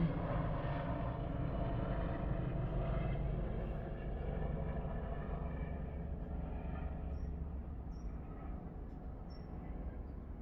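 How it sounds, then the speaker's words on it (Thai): An airplane drones past overhead in a backyard garden in the evening, a broad, steady rumbling roar that fills the whole stretch and slowly fades. "เสียงเครื่องบินนั้น"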